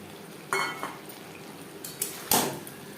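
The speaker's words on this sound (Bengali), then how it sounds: "পোস্তর সাথে আলু আরও তিন চার মিনিট নাড়াচাড়া করব" Fried potatoes being stirred into poppy seed paste in a pan give a few scattered spatula scrapes and soft clatters over quiet background noise, close but brief.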